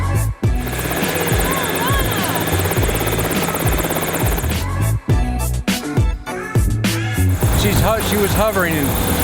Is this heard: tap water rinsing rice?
no